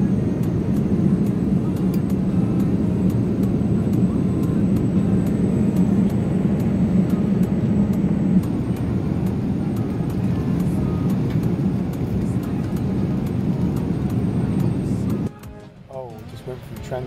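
An airplane lands at Doha, Qatar; a loud, constant engine and cabin roar fills most of the clip, then drops off sharply toward the end, with faint voices underneath.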